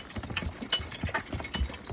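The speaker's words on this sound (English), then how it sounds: "Look how narrow those horses are walking." Draft horses walking in harness while skidding logs, hooves clip-clopping in an uneven plodding rhythm over about two seconds, with no talk.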